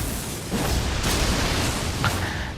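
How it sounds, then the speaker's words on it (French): A lightning-infused dragon-scale sword strikes and explodes in Elden Ring, with a burst of crackling booms over a constant roar of game ambience, sharp hits landing near one and two seconds. "Ça fait une explosion."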